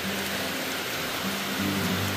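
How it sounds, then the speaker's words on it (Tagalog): Heavy rain pours down outdoors in a sudden downpour, a dense steady hiss of drops on surfaces with a low rumble beneath it, constant and close. "Biglang bumuhos yung ulan"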